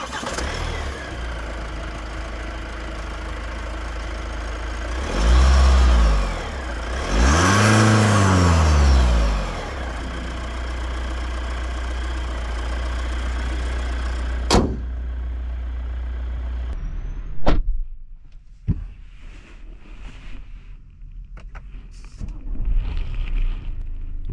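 A 2024 Kia Sorento 2.2-litre CRDi turbodiesel engine idles, then revs up twice in rising and falling sweeps before settling; later it cuts off, leaving clicks and faint background noise.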